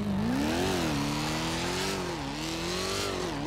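A powerful Z1 sports car engine in the GTA 5 video game revs and accelerates with a steady droning tone that rises and dips slightly as the throttle shifts, loud and continuous throughout.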